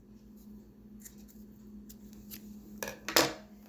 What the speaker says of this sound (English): we're going to cut off a little tail here at the end